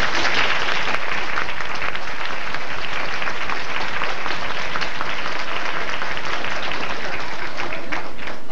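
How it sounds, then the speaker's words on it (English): Steady, loud applause from an audience of children at a 1991 student government inauguration at Vegas Verdes, dense clapping continuing throughout without a break. "Let's give her a round of applause."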